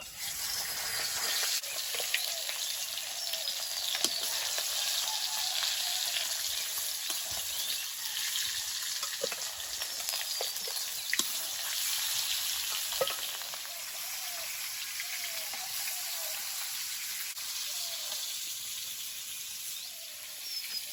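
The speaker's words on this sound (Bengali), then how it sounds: "তেলটা গরম হয়েছে, এবার মাছগুলো একে একে দিয়ে দেবো" Fish sizzles in hot oil in a kadai wok, a loud, even frying hiss heard up close, with small spits and pops and no talking.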